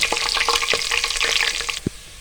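Garlic sizzling with browned onions in a pot for khichri dal mash, busy crackling and spattering with irregular stirring knocks that thin out near the end before one last soft thud, nearby with no speech.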